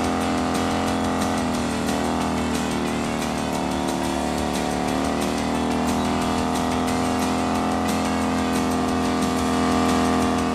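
A big Harley motorcycle engine runs and revs steadily during a stunt-riding show, its loud, continuous drone holding sustained pitch with gradual rises and falls, alone without speech.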